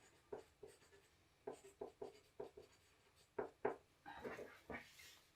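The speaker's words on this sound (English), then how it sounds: "So I'm just going to write on these what they are." Pen writing on fabric lining pieces for a skirt, a series of short scratchy strokes in bursts, close and quiet, with no talk.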